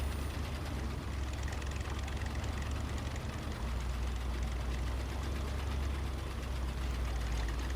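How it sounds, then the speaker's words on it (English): Truck engine in the SnowRunner game failing to start, a steady low rumbling drone with heavy low-end throb that continues without catching, loud and alone. "Keeps trying to start engine."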